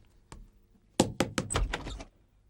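A door being opened: a single knock-like thunk, then a quick burst of several loud clattering bangs and rattles from the door and its handle close by, with no talking.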